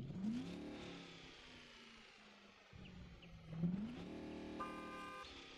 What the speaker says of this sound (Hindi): एग्जॉस्ट सुनो